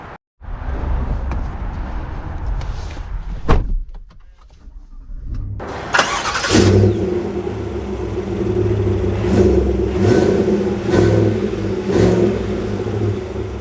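A 2024 Chevy Tahoe High Country SUV with max trailering package fires up with a sharp burst, then settles into a steady low idle rumble and pulls away, with a few brief rising surges from the engine.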